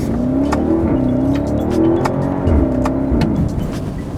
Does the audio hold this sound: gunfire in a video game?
no